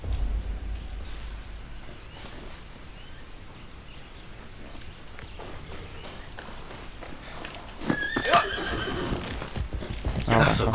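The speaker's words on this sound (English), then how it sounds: "That's a good horse" A horse in the video game Far Cry 6 whinnies loudly near the end. Before that come quiet hoof clops and insect chirps, with game ambience and a faint voice in the background.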